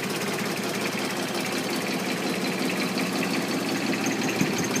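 A John Deere 4100 tractor's diesel engine idles after a cold start with a steady, loud, close clattering rumble and rapid knocking, unbroken for the whole stretch.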